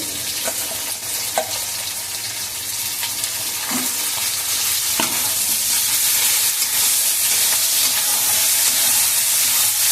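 Shrimp frying in a pan after flattened rice has been fried, with a loud, steady sizzle and hiss throughout and occasional stirring knocks, no talking.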